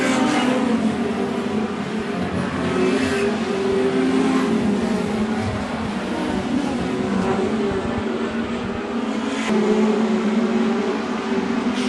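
Speedway race cars roar around a dirt oval, a dense, continuous engine drone from a pack of cars that swells and fades slightly as they pass, heard from trackside with no voices.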